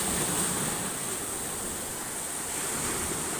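Typhoon-driven sea waves roar in a steady, unbroken wash of surf at Palamban, mixed with wind noise, loud and continuous with no voices.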